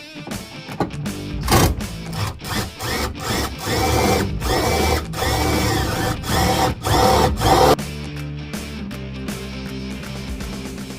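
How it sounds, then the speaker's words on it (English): A power drill bores holes to mount LED rock lights, whirring loud and close in repeated bursts with brief pauses between, its pitch rising and dropping as it bites and spins down. "now that we have all of our holes drilled to mount our LED rock lights"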